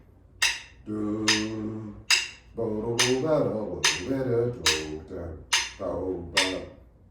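Students clap in time on jazz beats 2 and 4, about eight sharp claps spaced evenly over a swinging recorded jazz tune playing underneath.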